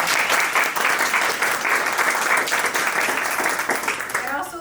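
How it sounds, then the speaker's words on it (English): An audience applauds award winners at an advocacy award board presentation, steady dense clapping filling the whole stretch at full volume, tapering slightly at the end. "So, round of applause."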